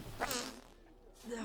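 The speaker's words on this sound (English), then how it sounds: "One thing he's for sure doing is farting." A short cartoonish fart from a Sims character named Bob in The Sims 4, a brief burst followed by a quieter tail after a pause, with a soft voice-like sound nearby.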